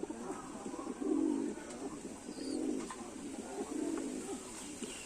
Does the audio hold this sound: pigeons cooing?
yes